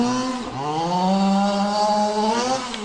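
A Losi 5T 3.0 gas-powered RC truck with a can muffler buzzes loudly up close, its engine note dipping briefly and then rising into a sustained, high-revving whine.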